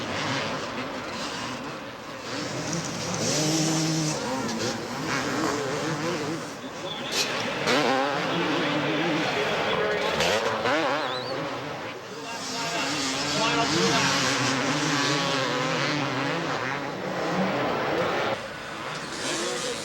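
Vintage Honda CR250 motocross motorcycles racing at Anaheim Stadium Supercross: buzzing two-stroke engines rise and fall as bikes rev and pass, continuous and fairly loud under a commentator's voice.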